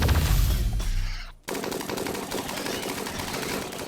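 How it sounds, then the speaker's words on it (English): Miniguns blaze away in RimWorld with the Vanilla Expanded Insectoids mod, a loud, dense, continuous rattle of automatic fire that briefly cuts out, then resumes as a steady roaring barrage. "these are miniguns"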